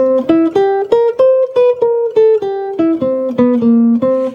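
A clean jazz guitar lick of quick plucked notes over a dominant 7 chord, in an even, swinging rhythm, moving up and then back down, played alone and up close.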